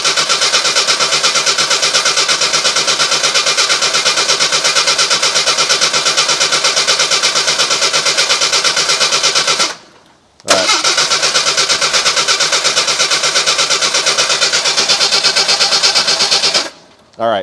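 The starter of a 1987 Jeep YJ cranks on and on without the engine catching, a loud steady rhythmic churning that breaks off briefly near ten seconds, resumes, then stops again near the end.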